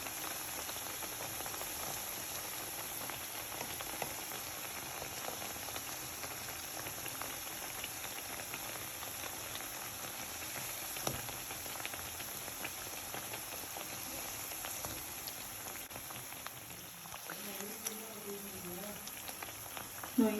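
Bread pieces deep-fry in hot oil with a steady, soft bubbling sizzle that carries evenly throughout, fairly quiet, with faint clinks near the end.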